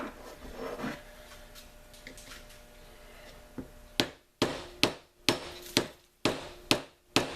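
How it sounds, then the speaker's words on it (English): Screwdrivers hammered into a homemade mineral salt block give soft scraping and scattered taps at first, then a run of sharp, regular hammer blows, roughly two per second, close up and with no talk. "you're not really supposed to pound screwdrivers into stuff, but it's working for us"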